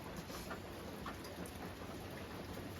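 Steady rain falling outdoors in a soggy downpour, a dense even hiss of drops with no pauses, close and moderately loud, with no voices.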